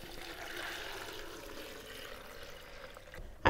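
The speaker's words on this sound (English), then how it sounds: "And then I'm gonna pour in some water." Water pours into a blender on top of spinach for a smoothie, a steady soft splashing stream lasting a few seconds before a sharp knock at the end, with no talking.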